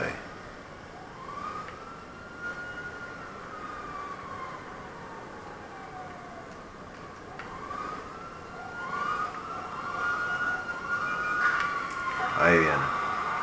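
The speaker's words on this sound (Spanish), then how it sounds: "Ya estoy escuchando las sirenas" Police sirens in Grand Theft Auto V wail in long rising and falling sweeps, fading in and out under steady background noise and a voice, ending with a sharp burst.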